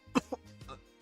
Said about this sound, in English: coughing of blood